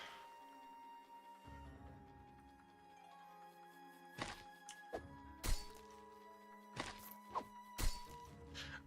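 Stab and slice hits in the video game The Wind and Wilting Blossom: several sharp thuds and crunchy impacts scattered over a droning game music bed.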